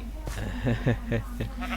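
Grey sheep in a video game bleat several times in a short run of wavering calls, near and fairly loud over a low steady background hum.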